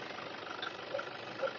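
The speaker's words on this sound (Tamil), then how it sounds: "வண்டி ஸ்டார்ட் பண்ணி காமிங்க. இன்ஜினை பாருங்க, 2010 இன்ஜின் மாதிரியா இருக்கு." A Toyota Fortuner's engine idles just after starting, a steady, even hum heard close for a moment and slightly muffled, with a few faint ticks on top.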